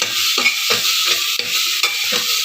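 Onion with ginger-garlic paste frying in a pan for masala rice, a steady close sizzle broken by repeated stirring scrapes at a regular pace, no voices.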